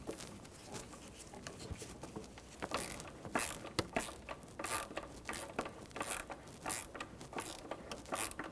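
A socket ratchet snugging up spark plugs on a 1997-2006 Jeep Wrangler 2.4L four-cylinder, a quiet, rapid run of ratchet clicks repeating in short bursts over a low background hiss.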